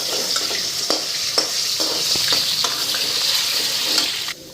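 Potatoes fry in hot oil in a pan with a steady, loud sizzle and occasional stirring scrapes throughout, no voices.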